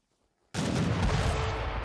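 A mortar fires in a real-time strategy battle game, a single sudden loud boom that breaks from near silence and holds as a dense, sustained rumbling roar.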